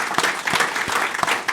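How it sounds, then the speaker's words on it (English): Audience applause for hospital staff at a Mayo Clinic Health System milestone celebration in Albert Lea and Austin, a short burst of steady clapping from a gathered crowd. "applause for the staff, absolutely."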